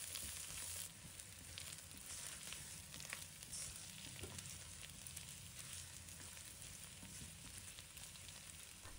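Sliced garlic and ginger sizzle in a pan beside golden-fried yellow croaker fish, a soft continuous crackle with occasional spits and stirring scrapes, quiet and close with no talk.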